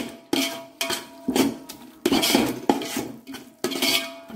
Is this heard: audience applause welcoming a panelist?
no